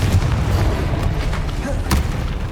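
Spell blasts from the Bombarda and Confringo spells boom in the Hogwarts Legacy video game, a couple of heavy thuds and bursts over a rumbling game soundscape.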